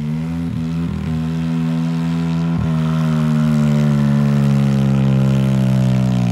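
The engine of a DTV Shredder runs close by with a steady, droning hum, rising slightly in pitch and loudness toward the end.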